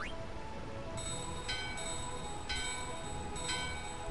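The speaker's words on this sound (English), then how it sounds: "we ring the protection bell" The protection bell rung in Final Fantasy IX, a game chime: a few bright, clear metallic bell tones roughly once a second, ringing softly over a quiet, steady game background.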